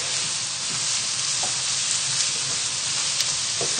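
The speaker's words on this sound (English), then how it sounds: "we're just going to cook this for about a minute or so, just to take the raw flavour out of the onions" Onions frying in butter in a pan for a turkey curry, a continuous close sizzle with a few faint stirring taps, no talking.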